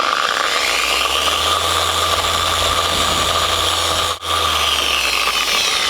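A car polishing machine with a pad running on a Mk4 Volkswagen Golf, a loud steady motor whine with a brief dip near the end, close and continuous with no talking.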